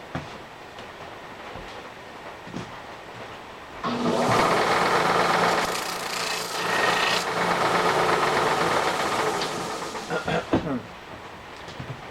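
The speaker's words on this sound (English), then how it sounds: "I think I'm going to just go grind that off." An angle grinder grinds a metal piece while a large wood stove is being finished. A loud, harsh, steady grinding rasp runs for about seven seconds, then cuts off. Quieter shop clatter comes before and after it.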